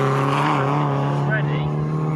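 MG race cars in an MGCC MG Cup Championship race at Snetterton sweep along the back straight with a loud, steady engine drone and a falling pitch as they pass, heard under continuous commentary.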